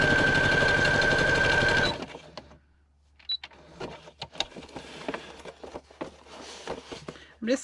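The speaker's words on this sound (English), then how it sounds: "I'm just kind of stitching in a zigzag where I feel like this would look nice." A sewing machine stitching a zigzag runs loud and steady for about two seconds, then stops, leaving quieter scattered handling clicks and rustles of fabric.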